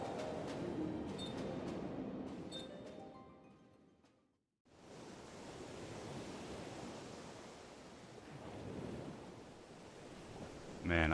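Ocean waves washing and surging steadily while sailing in Final Fantasy XIV, a broad wash of surf that dips briefly to near silence before swelling back, with faint game sounds early on.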